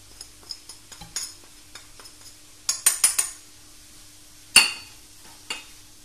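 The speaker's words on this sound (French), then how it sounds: "Je vais bien mélanger les épices, la viande hachée et les légumes." Minced meat, vegetables and spices are mixed in a bowl, with soft squelchy stirring broken by sharp clinks and scrapes of a utensil against the bowl, close and irregular with no talk.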